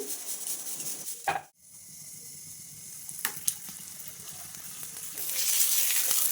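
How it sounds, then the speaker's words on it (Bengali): Lachha paratha frying in a pan, a steady close sizzle that drops out briefly and then returns louder, with a few faint clinks and no talking. "এবার ভেজে নিচ্ছি"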